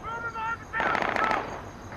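Rapid machine gun fire from a 5.56 weapon in a film bursts out loudly for about half a second in a tight rattling volley, with a voice heard just before.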